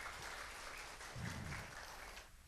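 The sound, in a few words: congregation applause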